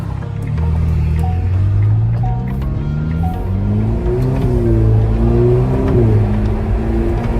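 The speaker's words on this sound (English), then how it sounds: "Shifts of the gearbox, and the downshifts." Ferrari Roma 3.9-litre twin-turbo V8 accelerating hard through its eight-speed dual-clutch gearbox, the engine note climbing and dropping with several quick shifts, loud and close from inside the car with no talking.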